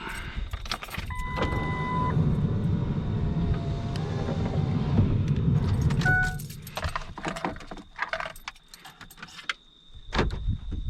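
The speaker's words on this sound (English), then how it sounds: "Let me roll these windows up and lock the truck up." The power windows of a pickup truck roll up with a thin motor whine, then the truck locks with a short beep. Keys jangle and a vehicle engine runs nearby in the South Texas brush, and there is no talk.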